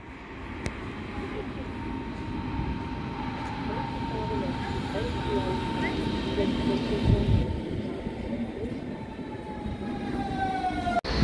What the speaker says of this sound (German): die letzte Tram nach Lüneburger Straße, der M10